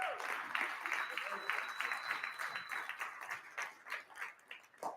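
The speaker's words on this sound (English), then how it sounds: "Let's give Ted a round of applause for this meetup" A full room at a real estate investors' meetup gives a round of applause, steady clapping with some voices mixed in that tapers off toward the end.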